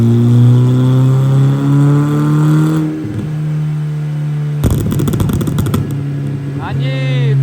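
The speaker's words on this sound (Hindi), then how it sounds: "अब हम छोटे साहब में चलाएंगे पॉप एंड बैंग।" Tuned car exhaust crackling with pops and bangs on the overrun, starting as a steady engine drone, dropping out, then a loud burst of rapid sharp bangs, with a voice speaking near the end.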